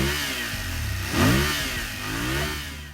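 BMW F750 GS with an 853cc parallel-twin engine and stock exhaust, revving close by: a loud, buzzy engine note that swells in a quick throttle blip and then settles back to a steady drone.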